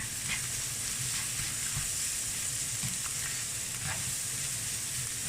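Constant loud sizzling and crackling of chicken and egg stir-frying in a hot pan for pad see ew, with occasional scraping stirs.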